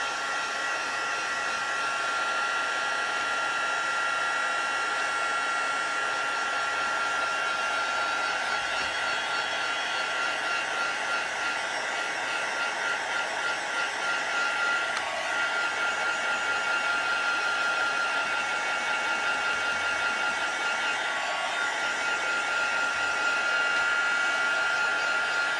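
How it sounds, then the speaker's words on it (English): Heat embossing tool blowing hot air over a card for a stamping craft, a steady loud whooshing fan roar that runs unbroken throughout with no talking. "I'm going to take my heat embosser and just heat it so it gets warm"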